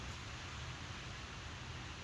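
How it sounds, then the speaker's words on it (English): Steady rushing wind moving through forest trees in Scotland, an even, unbroken hiss with no voices or distinct events. "that sound of the wind going through the trees"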